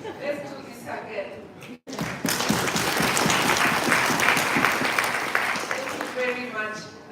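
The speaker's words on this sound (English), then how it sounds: "those who didn't clap, where is the problem? Let's do this again." An audience at a live event breaks into loud, sustained clapping after a brief pause. The applause is dense and steady and fades slightly toward the end, while a voice speaks in the background.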